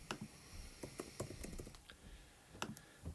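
Fingers tap out a name on a computer keyboard during an online sign-up, producing irregular, close clicks in short bursts with small pauses between keystrokes.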